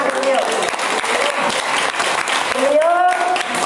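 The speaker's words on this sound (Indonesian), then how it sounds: "Tepuk tangan beliau." Audience at a school marriage-guidance session in Lombok clapping, a dense, steady burst of applause filling the room, with some voices and a whistle-like tone mixed in.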